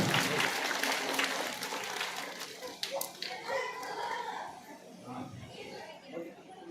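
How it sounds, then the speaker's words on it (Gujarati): Applause welcomes a guest at a village school enrollment festival, a broad burst of clapping from the crowd that fades as talk and children's voices take over, with a dog barking faintly. "જોરદાર તાળીઓથી વધાવી દઈશું."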